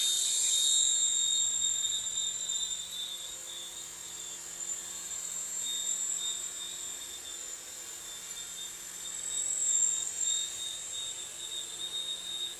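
A small Eachine Tracker H101 toy RC helicopter runs at nearly full throttle, its rotor and tiny motor giving a thin, high, steady whine that swells and fades slightly, fairly faint against a quiet room.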